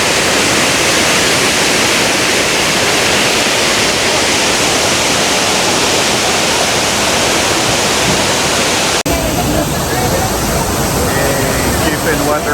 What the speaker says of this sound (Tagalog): Shifen Waterfall.